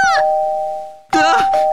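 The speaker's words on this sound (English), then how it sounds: "It won't stop ringing the doorbell!" Doorbell in the video game Minecraft chimes loudly twice in close succession, a bright sustained electronic ding, with excited voices cutting in around the second ring.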